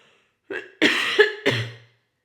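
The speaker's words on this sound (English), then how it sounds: "Forgive me, I'm going to cough." Two or three close, harsh coughs in quick succession, loud and dry, standing alone with silence before and after.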